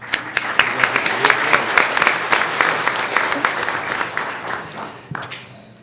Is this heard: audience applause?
yes